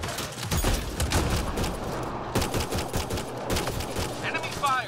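Enemy weapons fire in rapid, sustained bursts during an online Mass Effect Andromeda firefight, loud and dense throughout, with players talking under the shots.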